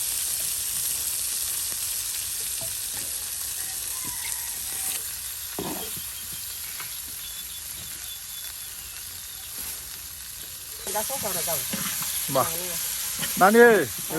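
Chopped onion and garlic frying in a pan for a village breakfast, beside bottle gourd greens and taki fish: a continuous close sizzle, with scattered clinks and some voices rising in the last few seconds.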